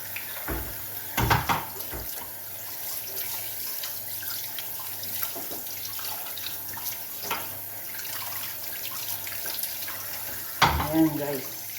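Fish is washed under a running kitchen tap with a steady hiss of water and intermittent splashes and handling noises, louder bursts near the start and end, with a voice speaking at times.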